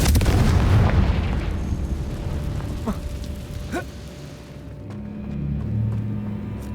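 A Confringo spell explosion in Hogwarts Legacy, a heavy booming blast that opens loud and rumbling, then fades into scattered crackling debris and a low hum.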